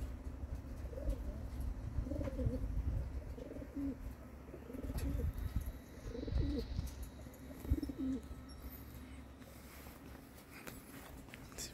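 Racing pigeons coo in soft, repeated low calls near a loft, with light rustling and the odd chirp over a steady outdoor background hum.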